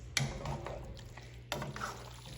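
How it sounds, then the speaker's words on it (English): Cooked spaghetti noodles tossed and stirred in a pasta pot, with faint wet slaps and soft scraping in two short bursts at a distance, otherwise quiet. "Toss in here, add our noodles, give that a good mix."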